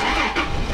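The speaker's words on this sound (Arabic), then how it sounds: "نشغل السيارة" A car engine cranks and catches in a short burst, a rough close mechanical whirr followed by the idle settling in, fairly loud with no talking.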